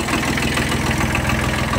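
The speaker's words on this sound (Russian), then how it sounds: "Работает трактор довольно ровно." A Kubota B1200 mini tractor's small engine idles close by with a steady, even low rumble and faint knocking pulses, with no talk over it.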